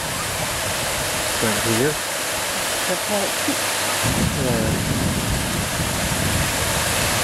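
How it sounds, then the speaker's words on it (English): A small, low-flowing waterfall in Taughannock Falls State Park after a dry summer, giving a steady close hiss of falling water with a person talking briefly over it. "This is just a very small falls"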